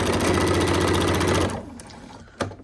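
A sewing machine stitching the lining of a zipper pouch runs in a fast, even, close whirring rhythm for about a second and a half, then stops, leaving a few small handling clicks.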